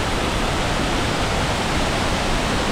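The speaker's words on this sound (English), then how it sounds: "And here is the magnificent waterfall." The Gitgit Twin Waterfall in Bali roars as a loud, unbroken broadband rush of falling water, close and steady with no voices over it.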